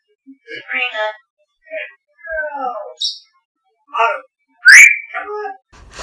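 A parrot whistles and chirps in a series of separate bursts, some warbling and one sharp rising whistle, loud and close with silence between.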